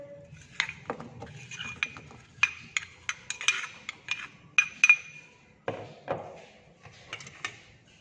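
A spoon clinks and scrapes against a bowl while mixing a vegetable fruit salad of guava, apple, pomegranate, beetroot and lady's finger, with irregular close taps and stirs over about eight seconds.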